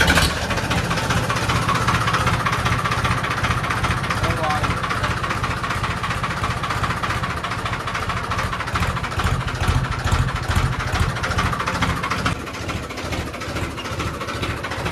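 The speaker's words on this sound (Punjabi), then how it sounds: "ਹੁਣ ਤੁਹਾਨੂੰ ਸਟਾਰਟ ਕਰਕੇ ਦਿਖਾਉਣੇ ਆ ਟਰੈਕਟਰ ਆਪਾਂ" A tractor engine, a Farmtrac or Swaraj, starts and settles into a steady, loud idle with a rhythmic low chug that runs alone through the whole stretch.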